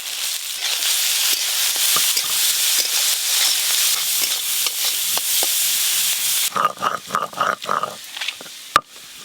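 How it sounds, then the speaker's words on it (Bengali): Steady, dense crackle of prawns frying in hot mustard oil in a wok fills most of the clip, then breaks into louder bursts of sputtering pops near the end. "কড়াতে সর্ষের তেল দেব, চিংড়ি মাছগুলো ভালো করে ভেজে নেব"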